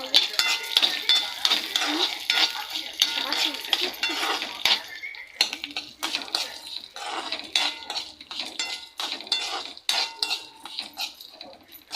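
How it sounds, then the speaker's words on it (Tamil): Tamarind and grated coconut sautéing in oil in a pan, with repeated clinks and scrapes of a metal spoon against the pan over a light sizzle. "இப்போது இந்த தேங்காயும் இதில் ஒரு கொட்டு ஊற்றி வதக்கலாங்க"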